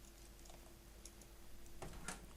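Keyboard shortcuts are pressed on a computer keyboard while working in Photoshop. Faint, sparse key clicks sound over a quiet background hum, with a small cluster of taps near the end.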